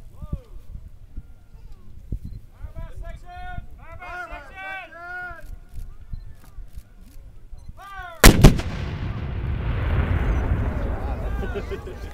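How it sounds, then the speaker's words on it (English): A cannon fires once with a loud, sudden boom, and a long rumbling roar follows at a Battle of Shiloh reenactment. A person speaks in the quieter stretch before the shot. "You see the smoke and all come these artillery pieces."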